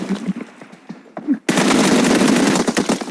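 After a moment of quiet scattered noises, a loud burst of rapid automatic gunfire erupts and keeps rattling nonstop to the end.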